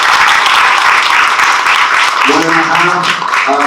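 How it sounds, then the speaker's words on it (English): A dense wash of audience applause, steady and fairly loud throughout, with a voice briefly sounding beneath it near the end. "A big round of applause."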